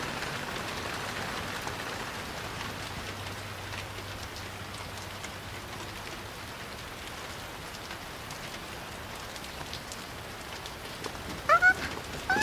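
Heavy rain pours steadily, a dense, even hiss that stays constant throughout, with a couple of brief, louder knocks near the end and no voices.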